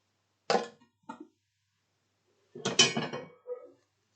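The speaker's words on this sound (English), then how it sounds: "I'm going to add 4 diced and peeled potatoes, about 1/2 cup of diced onion" Diced potatoes and onion tipped into a soup pot: a couple of short clattering knocks, then a longer tumbling rattle with a final small clunk, all close and fairly quiet against silence.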